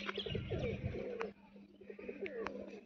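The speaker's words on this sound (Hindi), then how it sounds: "ये कबूतरी है" A female pigeon coos nearby in soft, repeated throaty bursts, with faint chirps and a low steady hum underneath and no talking.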